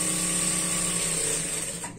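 A sewing machine runs a straight seam on a salwar, its motor whirring in a steady high hum that winds down just at the end.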